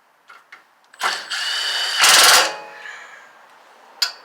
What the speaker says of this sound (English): This is temporary, so I'm just gonna put 2 screws in it.